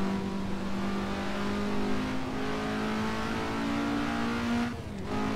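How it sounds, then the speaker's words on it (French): Audi R8 engine in the racing game Assetto Corsa, a loud sustained rev, steady and close, pitch holding high before a brief dip near the end, with slight echo. "La R8 qui fait un joli petit bruit."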